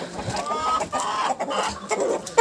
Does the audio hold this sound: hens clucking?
yes